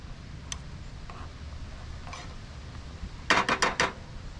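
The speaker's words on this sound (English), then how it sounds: "I'm going to mix that up pretty good." A spoon scrapes and clinks against a pot of old-fashioned oats at a truck campsite: a few faint isolated taps, then a quick cluster of four sharp metallic strikes near the end over a quiet outdoor background.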